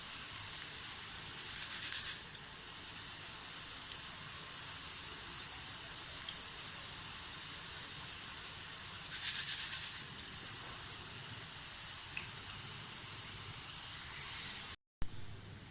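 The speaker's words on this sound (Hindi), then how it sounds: "थोड़ा थोड़ा इसको शांत मतलब स्टीम करते जाएं, और फिर डालते जाएं बीच में, ताकि अच्छी तरह से चारों तरफ से दाल जो है वो फ्राई हो जाए" Moong dal frying in oil in a pan, a steady continuous sizzle and hiss that holds level throughout with a few brief brighter surges, heard alone with no voices.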